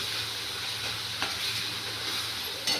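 Potato and bombil (Bombay duck) fry in a pan with a steady, moderate sizzle and occasional light stirring clicks, close and continuous without voices.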